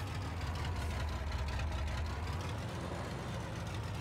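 A tractor engine in Farming Simulator 22 runs at a steady low rumble, a continuous even drone with no change in pitch and no voices over it.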